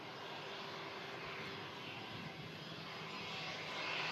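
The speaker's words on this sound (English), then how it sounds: "It's Lauda, A320, coming in here, turn off 23 right." A Lauda Airbus A320 jet comes in to land, its engine roar steady and fairly distant, a broad continuous drone that swells slightly toward the end, with no voices.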